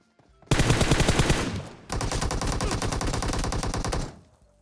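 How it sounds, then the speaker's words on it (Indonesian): Rapid automatic gunfire in a shooter video game, two loud sustained bursts of fast, evenly spaced shots separated by a brief pause, close and dominant. "Gue ditembak dari rumah sebelah"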